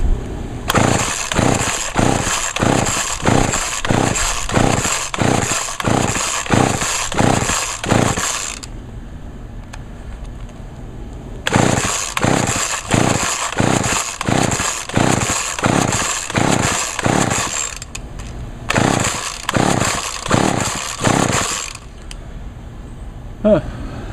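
McCulloch Eager Beaver chainsaw being pull-started on half choke after a carburetor rebuild: two long runs of rapid rhythmic cranking chuffs from the recoil starter, loud and close, with pauses between and a third shorter burst, the engine never catching.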